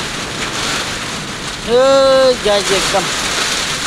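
Heavy rain pouring steadily in Kailali, a loud continuous wash of drops, with a voice speaking briefly over it midway.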